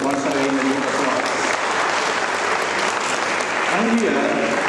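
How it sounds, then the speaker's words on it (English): An audience at an international economics seminar applauds, a thick, continuous burst of clapping that fills the hall evenly, with faint murmured voices underneath. "Once again, a round of applause."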